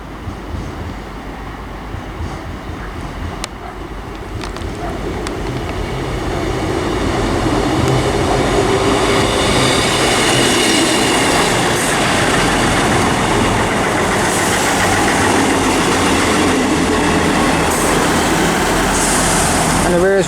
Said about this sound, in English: first train to arrive is going to be the 1304 East Midlands train service to Norwich from Liverpool Lime Street